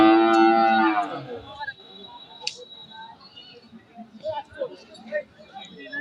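A buffalo at a large livestock market lets out a loud, close moo lasting about a second, followed by quieter market bustle and people talking nearby.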